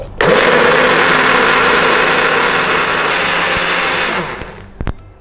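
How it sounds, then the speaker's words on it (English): A countertop blender whirs at high speed through shrimp shells, soaked dried shrimp and shrimp stock, a loud steady roar close by for about four seconds before winding down, followed by a couple of knocks. "Blend the shrimp shells and soak dried shrimp with the shrimp stock."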